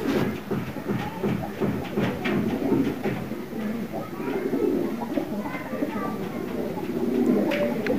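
Pigeons cooing continuously in a flock, low burbling calls layered over steady background noise with faint voices now and then.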